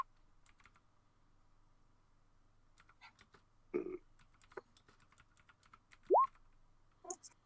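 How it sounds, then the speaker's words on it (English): Sparse, quiet keystrokes tap on a computer keyboard in scattered clusters against near silence, broken by a few louder isolated noises. "I hear typing."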